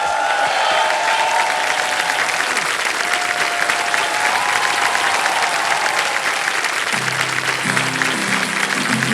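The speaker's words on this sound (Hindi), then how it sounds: "तालियां बज जाए Bhavan के लिए" A studio audience on the KBC quiz show set claps steadily for contestant Bhavan, a dense, sustained wash of applause throughout with low music entering near the end.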